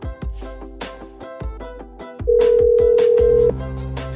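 Mercedes-Benz E-Class Bluetooth phone audio plays a short series of tones, then one long, steady tone that holds for about a second before stopping, over a rhythmic plucked musical background.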